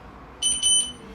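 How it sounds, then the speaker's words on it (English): Workout timer alarm beeping in two quick electronic bursts of bright tonal pulses, fairly loud against a quiet room, signalling time is up during an upper body exercise session. "If you heard that timer"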